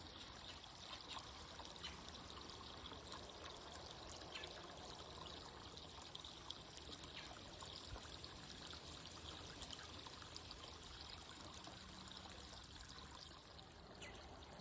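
Water pours steadily into a wildlife viewing tank that is nearly full, a continuous faint trickling and splashing stream that holds an even level throughout, with no voices.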